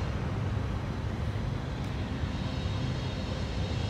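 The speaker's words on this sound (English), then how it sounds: "that one plane was so loud" A loud, continuous roar of an airplane passing overhead at Branch Brook Park fills the air with broad rumbling noise, steady throughout with no talking.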